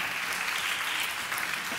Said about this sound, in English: Let's give Brian Rosner a warm round of applause